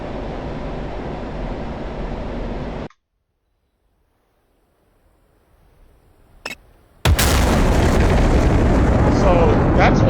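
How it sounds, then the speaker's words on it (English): Sonic booms from an F-16C Viper flying supersonic at low altitude in a flight simulator game, heavy roaring blasts that cut to near silence, then a sharp crack and a return of loud rushing roar. "I am flying faster than the speed of sound, and that's why it's making sonic booms as I'm flying"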